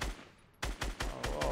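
Hunting rifle fire in Fortnite, with five sharp, evenly spaced shots cracking in quick succession after a short lull of quieter game ambience.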